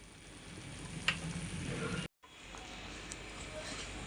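Chickpeas frying in a pan give a steady, faint sizzle and crackle throughout, with one brief stir-scrape and a momentary dropout midway.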